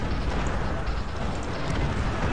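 Cannon auto-firing in the strategy video game Cossacks, a steady loud wash of overlapping booms and blasts with no clear gaps, thick low rumble throughout.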